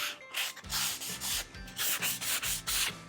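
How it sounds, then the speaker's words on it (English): Sandpaper rubs by hand along the edge of a stained wooden table with dark and white wood, a close, light, rhythmic swishing in about seven even back-and-forth strokes. "So I'm just going to give this a light sand."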